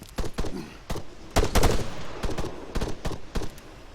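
Rapid gunfire in the video game Altis Life during a bank heist shootout: sharp repeated shots in clustered bursts, loud and close, with no talking.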